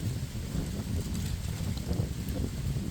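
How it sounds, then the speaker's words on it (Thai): Strong wind buffets a microphone outdoors, producing a steady, loud rumbling roar with gusty swells that continue throughout, with no speech over it. "ลมลมแรงมากครับ"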